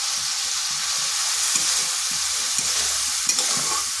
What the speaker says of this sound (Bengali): ডালটা ভালোভাবে মশলার সাথে কষে নিচ্ছি।